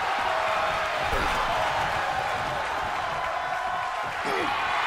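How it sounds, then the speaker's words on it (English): Wrestling arena crowd at a tag-team match roars in a steady, dense wall of cheering that holds loud and unbroken throughout, with no clear gaps. "The sound of this crowd is deafening"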